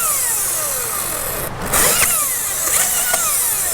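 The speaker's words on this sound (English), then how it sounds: "when they hear this electric chainsaw" An electric chainsaw whines steadily, its pitch sliding down and up as it bites into cedar wood, with a grinding cutting noise.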